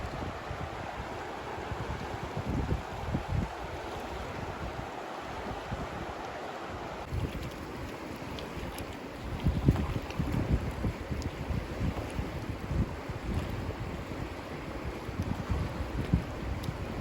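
Outdoors beside the Yellowstone River, a steady broadband rush of flowing water runs throughout, with gusty wind buffeting the microphone and growing louder in the second half; no one speaks.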